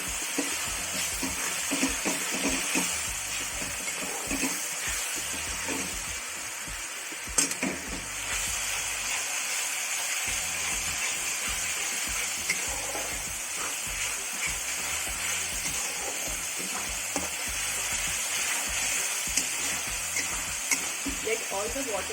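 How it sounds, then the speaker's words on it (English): Ginger garlic paste frying and being stirred in 3 to 4 tablespoons of hot oil for a village-style chicken curry, a steady bright sizzle with intermittent scraping of the spoon, and some faint speech at moments. "Fry it properly."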